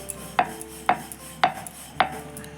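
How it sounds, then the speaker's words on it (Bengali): Wheat dough balls are rolled out with a rolling pin on a board, giving four evenly spaced sharp knocks close by over a quiet background, with no talking. "চলো আমি আটার লিচিটাকে গোল করে বেলে নিচ্ছি"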